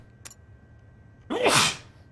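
One close, sharp sneeze from a man, preceded by a faint brief click and followed by quiet.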